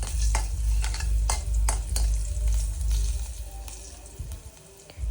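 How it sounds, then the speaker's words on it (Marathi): Oil tempering for Maharashtrian dadpe pohe sizzles in a pan, with a steady crackling hiss and low rumble punctuated by several sharp taps and scrapes of a spoon, close up and without talk. "मस्त फोडणी झालेली आपली"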